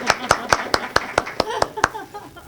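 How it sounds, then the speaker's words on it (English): Hands clap at a Lynchburg Optimist Club gathering, about a dozen distinct, evenly spaced sharp claps in a quick rhythm, close and fairly loud, thinning out toward the end. "I'll offer up a round of applause."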